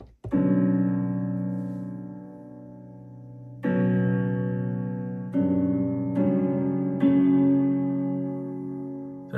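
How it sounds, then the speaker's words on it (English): Dark synth chords played in Ableton Live, four long sustained chords each fading slowly before the next begins, heard alone without talking. "Here's what the chords sound like by themselves."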